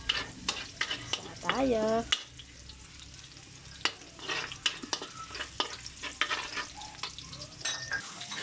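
Garlic sautés in a pan, a close sizzle with stirring scrapes and clinks, while a voice briefly speaks over it and a short tonal squeak sounds near the start.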